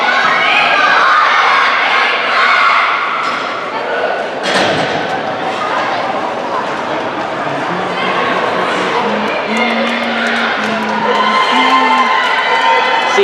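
A crowd cheering and shouting at a Breakers vs Flames game in a state tournament gym, loud and continuous with children's shrieks, clapping and a few thumps, while a sustained horn-like tone sounds in the later part.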